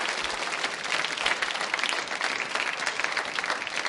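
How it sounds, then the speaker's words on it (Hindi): A school audience at a quiz show breaks into steady, dense applause, many hands clapping together at close range for several seconds without pause. "तो फिर तालियां बजाइए इस संकल्प के लिए जोरदार तरीके से"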